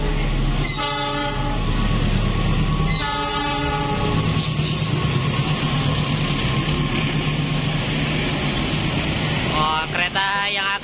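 A local train in West Java rumbles past close by, its horn sounding in a few blasts over the steady roar and rattle of the cars.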